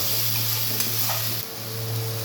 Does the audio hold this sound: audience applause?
no